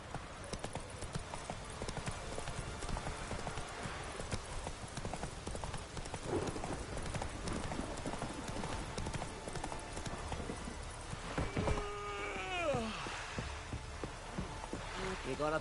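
Horse hooves clip-clop at a steady run from Roach, the horse in The Witcher video game, with a continuous ambient bed and a few brief voiced sounds near the end.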